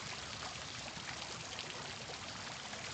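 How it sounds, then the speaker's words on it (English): Waterfalls at Cliff Castle in Heath, heard on a playing film as a steady, even rush of falling water with no breaks and nothing else standing out. "these are the waterfalls that were running that day"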